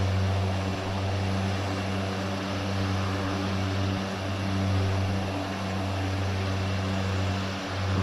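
A Grumman G73AT Mallard propeller plane in the FSX flight simulator drones steadily, a loud even engine hum with a strong low tone that holds without a break.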